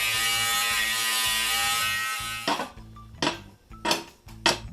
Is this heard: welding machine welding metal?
yes